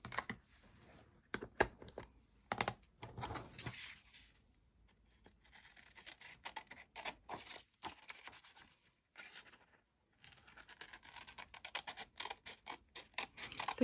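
Stamped paper labels are cut out with scissors, giving quiet, close, crisp snips and paper rustles in irregular clusters with short pauses between, and a few louder handling clicks.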